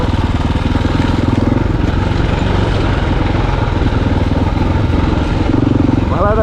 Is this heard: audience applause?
no